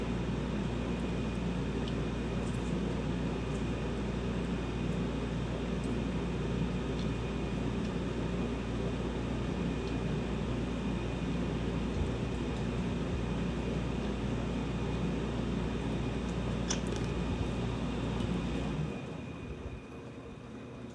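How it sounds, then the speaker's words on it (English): A room air conditioner runs steadily, a loud, constant broadband whir and hum that fills the room throughout, dropping slightly in level near the end, with no speech. "the air conditioner's running behind me."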